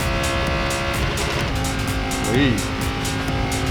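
A Lamborghini Gallardo races in the Racing Master video game, its engine droning steadily with a brief swell and a short squeal near the middle, while someone talks excitedly over it.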